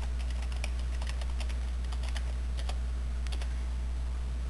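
Keys on a computer keyboard are tapped in short uneven bursts of clicks, close and crisp over a low steady hum, with no one speaking.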